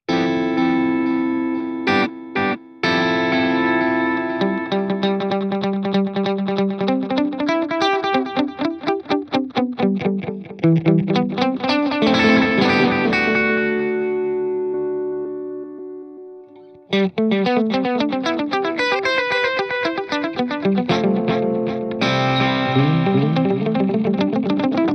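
Electric guitar played through a BOSS GT-1000 multi-effects unit with a rhythmic delay, loud chords and picked phrases repeating in timed echoes that fill the space, with a brief gap before the playing resumes.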